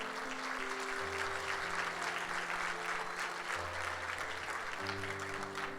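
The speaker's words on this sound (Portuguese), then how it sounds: "Vamos dar um aplauso a Jesus pela vida deles?" A room full of people at a pastors' café gathering applauds in a steady, dense wash of clapping while sustained music chords play underneath.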